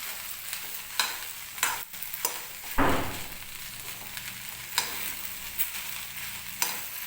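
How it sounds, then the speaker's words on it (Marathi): Okra being stirred with a pinch of asafoetida in a pan: scraping stir strokes over a soft steady sizzle, with a louder spatula scrape near the middle, no talk. "आणि व्यवस्थित भेंडी मिक्स करून घ्यायची."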